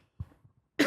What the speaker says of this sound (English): cough's really getting me